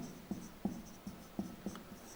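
A teacher writes on a board with quiet, irregular tapping strokes, about six soft knocks within two seconds, set against a low room hum.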